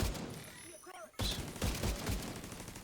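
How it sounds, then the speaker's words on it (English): Rifle gunfire in The Division 2, a dense run of rapid double-firing shots, loud and continuous, breaking off briefly before resuming in a steady volley. "Pull the trigger and it like double shoots."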